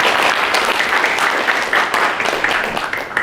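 Loud, dense applause from an audience at a youth forum with a political party leader, steady and sustained throughout with no voices rising above it.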